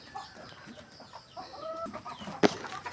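Chickens cluck softly and intermittently on a farm, with one sharper, louder squawk near the end against faint background noise.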